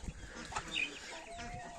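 Hens of various ages on a poultry farm give soft, scattered clucks at a distance, faint and brief amid quiet background murmur.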